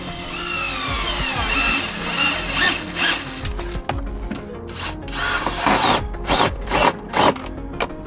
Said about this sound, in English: So I'm going to put 2 self-tapping screws in it and test that it works.